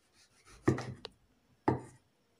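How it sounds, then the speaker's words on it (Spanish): A knife cutting tomatoes on a board, a few soft isolated chops and a short scrape, quiet and close with silence between strokes. "Y cortamos los tomates"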